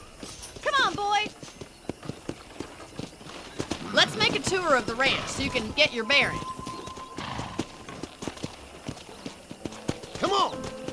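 Horse hooves clip-clop steadily in the Red Dead Redemption video game as the horse is ridden around a ranch, with whinnies and a voice talking over the hoofbeats.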